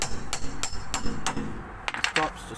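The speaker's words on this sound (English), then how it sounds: "A little hammer." A small hammer taps a part about six times at an uneven rhythm during a Ford Territory SX conversion, close and fairly loud, with a few lighter metallic knocks near the end.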